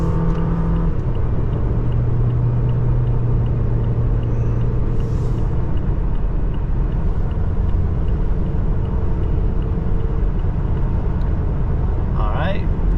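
A 2023 Toyota Tacoma SR four-cylinder 4x4 engine winds up under acceleration, a loud steady rumble with road noise filling the whole stretch, heard from inside the cab without pause.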